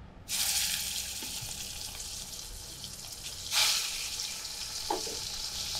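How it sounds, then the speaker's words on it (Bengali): Dried fish drops into hot oil seasoned with turmeric and salt and bursts into a loud sudden sizzle that settles into steady close frying, with a brief louder flare partway through. "তেল আমার গরম হয়ে গেছে, আমি এখানে আগে অল্প একটু হলুদ গুঁড়া দিয়ে দিলাম, অল্প একটু নুন দিয়ে দিলাম, তারপরে আমি দিয়ে দেবো আমার শুটকিটা"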